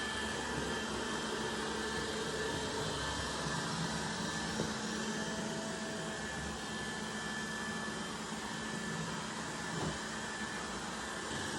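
A robot vacuum hums with a steady whirring motor and brushing noise, constant and fairly close, with a couple of faint bumps.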